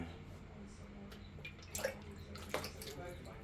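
A cup of water poured around the outer edge of a cannabis plant's pot, giving a faint, quiet trickle with a couple of brief splashy drips in the middle.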